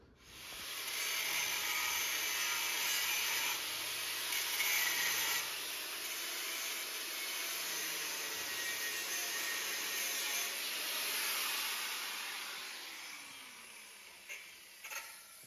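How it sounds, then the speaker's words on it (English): Steady loud grinding hiss as an angle grinder or cutting tool cuts a welded steel box off a large log splitter, running continuously for about thirteen seconds before tapering off with a few knocks. "So hopefully when I chop that box off"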